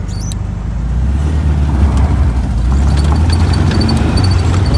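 A stick-shift VW Thing with cooling issues driving up a gravel hill, a loud low engine rumble with rattling, heard from inside the car.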